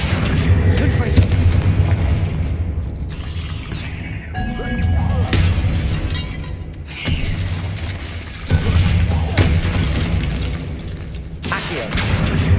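In Hogwarts Legacy, a Confringo spell detonates with heavy booming, artillery-like blasts over dense game combat noise, loud and continuous with brief dips between bursts.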